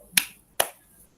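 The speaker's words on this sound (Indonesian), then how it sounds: "Kita beri 2 tepuk untuk Kak Adi" Two sharp, quiet claps ring out about half a second apart during an online teachers' session, each a crisp single snap with silence around it.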